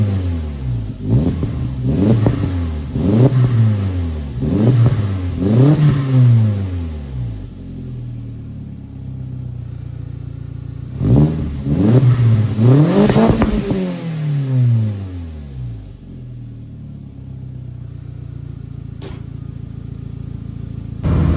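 Engine of a 1.8T MK1 Rabbit pickup fitted with a Techtonics Tuning exhaust, revved in a rapid series of rising and falling blips, a pause, then another burst of revs before settling back to a steady idle, loud and close.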